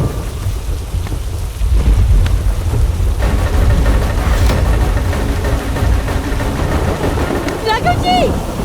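Heavy rain pours steadily in a thunderstorm scene from an Indian TV drama, with deep rumbling thunder underneath and a brief high whistling tone near the end.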